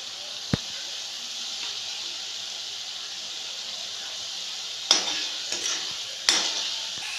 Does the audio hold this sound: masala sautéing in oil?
yes